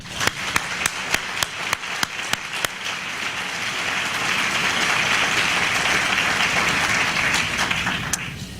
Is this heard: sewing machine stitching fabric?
no